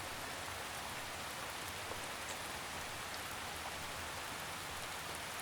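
Steady rainfall in a forest, a dense even hiss of drops on leaves and ground that holds constant throughout, close and immersive with no voices or thunder.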